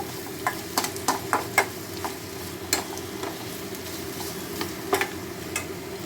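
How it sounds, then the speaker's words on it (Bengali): Spice masala for a hilsa curry fries in a pan under a constant close sizzle, with irregular scraping taps as it is stirred, with no talking. "আরও কিছুক্ষণ ভাজা ভাজা করে নেব,"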